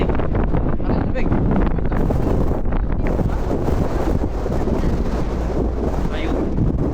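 Heavy, cold wind gusts batter the microphone in a continuous rumbling roar outdoors in Kazakhstan, with muffled voices breaking through underneath.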